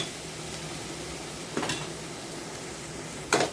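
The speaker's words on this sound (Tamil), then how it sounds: "இது இப்போது நல்லா வதங்கட்டும் பார்ப்போம்" Onions sauté in a pan for white sorghum upma, giving a soft, steady sizzle up close, broken by two short scraping stirs of a utensil.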